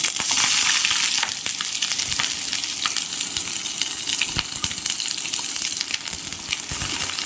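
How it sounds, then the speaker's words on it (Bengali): Chopped onion, tomato and green chili frying in hot oil in a kadai for Bengali prawn bhuna, a steady loud sizzle with crackling pops throughout, no voices. "এবারে কড়াইয়ের মধ্যে আমি আগের থেকে কেটে রাখা পেঁয়াজ কুচি, টমেটো কুচি, কাঁচা লঙ্কা একে একে তেলের মধ্যে দিয়ে দেবো"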